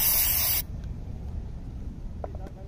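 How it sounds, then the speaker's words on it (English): Cleaner sprays onto the electrical connector pins of a 2008 Impala engine in one short, loud hissing burst of about half a second, followed by quiet with a few faint clicks. "Also, I'm gonna spray the little pins in here."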